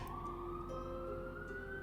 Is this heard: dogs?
no